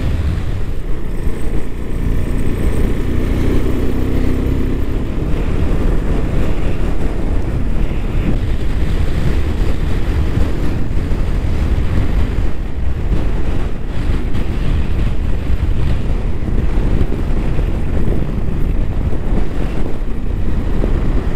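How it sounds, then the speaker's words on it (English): Strong wind at Pangong Lake in Ladakh, a constant heavy rumbling buffet across the microphone with steady low roar and no voices, unbroken throughout. "There's so much of wind."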